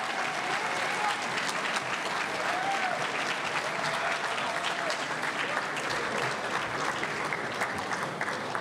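A big crowd applauds the graduating class at a high school commencement ceremony, sustained and loud, with dense overlapping claps holding steady and faint cheers mixed in.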